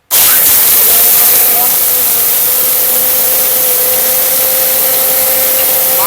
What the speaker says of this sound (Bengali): এটা মহা শক্তিশালী ব্লেন্ডার